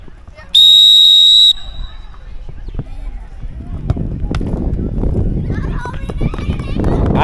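A loud, steady whistle blast rings out for about a second during a children's penalty kick challenge, followed by running, kids' chatter and outdoor bustle.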